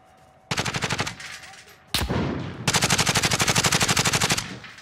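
Automatic weapon fire in Call of Duty: Modern Warfare, loud rapid bursts of evenly spaced shots, a short burst, a sharp blast, then a longer sustained stream of fire, close and dominant.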